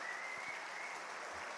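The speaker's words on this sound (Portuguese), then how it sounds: "Palmas para eles, muito bem." An audience applauds at an afternoon session of a Spiritist education conference, a steady wash of clapping heard faintly and evenly throughout, with no voices standing out.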